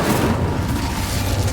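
Incendio fire spell cast in the video game Hogwarts Legacy, a steady loud roaring whoosh of flame with a deep rumbling low end held throughout.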